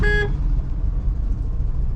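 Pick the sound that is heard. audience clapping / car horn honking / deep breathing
car horn honking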